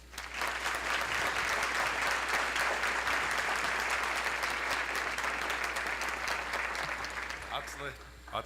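An indoor audience claps steadily at a state diversity summit, welcoming a Muckleshoot tribal member to the stage, a full and even round of applause that fades slightly at the end.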